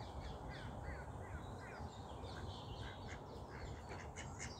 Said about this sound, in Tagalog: Ito ibang klase siya oh. Ibang klaseng duck.